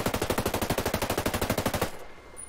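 An 805 BREN rifle in the Ghost Recon Breakpoint video game firing full auto, a loud close burst of rapid evenly spaced shots lasting nearly two seconds before cutting off into quiet.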